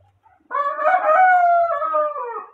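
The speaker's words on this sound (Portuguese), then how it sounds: "essa cantoria de galo aqui" A rooster crows once, a loud, drawn-out call that rises and trails off, close by in a farmyard where young and adult guinea pigs are kept, with no voices during the crow.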